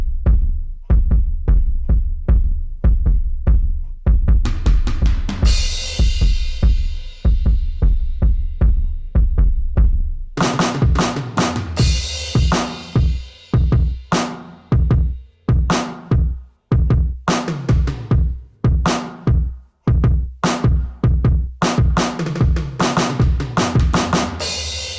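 Programmed drum fills played on an iPad with quantize off run continuously with loose, slightly uneven timing, heavy thumping kick hits, rolling toms and bright cymbal crashes over a steady groove, loud and up close.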